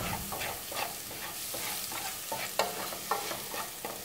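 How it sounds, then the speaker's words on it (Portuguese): Garlic sautéing in a pan for homemade tomato sauce, stirred steadily: continuous close sizzling with repeated scraping strokes and a few sharper clacks of the utensil against the pan, no talking. "Alho refogadinho, fritinho"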